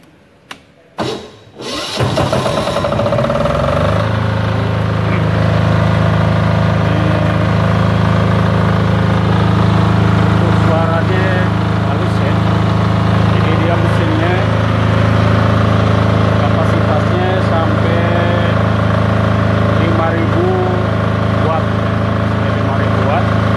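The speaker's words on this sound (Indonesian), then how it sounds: "Saya akan nyalakan untuk gensetnya." A generator set used to power welding machines cranks and starts after a few brief pulls, then settles into a steady, loud running drone that continues without break.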